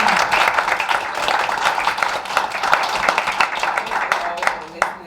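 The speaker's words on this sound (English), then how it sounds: "could you please join me once again to give Dr." A lecture audience claps for Dr. Akosua Ampofo at a Fulbright scholar guest lecture, a dense round of applause with sharp individual claps standing out near the microphone, and some voices mixed in.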